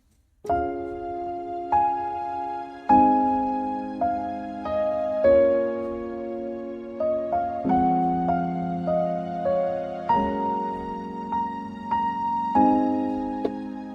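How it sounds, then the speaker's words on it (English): On a keyboard, sustained chords in the low register support a simple melody line above, played at an easy, steady pace. "I'm going to play the chord with my left hand and then the melody line with my right hand."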